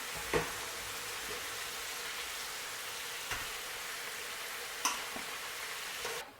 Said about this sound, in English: Continue to fry, guys, until your potatoes are golden brown.